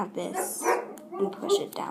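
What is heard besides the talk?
dog barking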